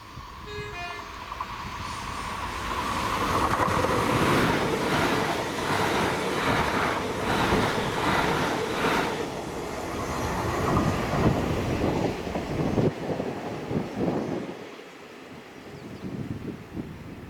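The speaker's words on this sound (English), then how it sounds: "the 1031 ScotRail service to Glasgow Queen Street from Edinburgh with 385022 and" A ScotRail class 385 electric passenger train, units 385022 and 385038, passes at Greenfoot on a service from Edinburgh to Glasgow Queen Street, with a steady rising rumble and rhythmic wheel clatter that fades toward the end.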